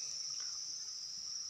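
Crickets at a cricket farm keep up a continuous, shrill, steady chirping chorus, fairly soft, with no other sounds.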